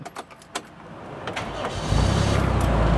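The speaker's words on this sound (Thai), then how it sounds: "สตาร์ทปกตินะฮะ" A sedan's engine cranks after a few clicks, then catches and settles into a loud, steady idle rumble nearby.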